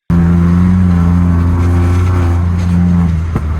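Loud, close idle and rev of a tuned three-cylinder performance car engine, a steady droning hum held throughout that dips briefly near the end.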